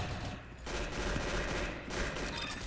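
Rapid spam-gun fire in the Roblox Arsenal game, a dense continuous burst of shots with two short dips, loud and compressed with no talk.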